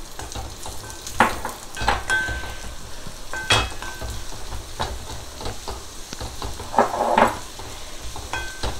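Fried black yam pieces being stirred into a pickle in a pan, with a continuous crackling sizzle and repeated scraping strokes of a spoon against the pan, close and loud throughout.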